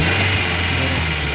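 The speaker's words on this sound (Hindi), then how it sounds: "सर रेस देना यार, एक्सीलेटर दें" A Suzuki Cultus car engine with a parking-light RPM fault is held at raised revs on the accelerator, a loud, steady mechanical drone with a low hum underneath and no talking.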